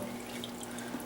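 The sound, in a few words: water poured into a measuring cup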